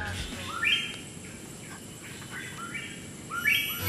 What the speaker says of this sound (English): all you can hear is birds and maybe a monkey jumping around now and again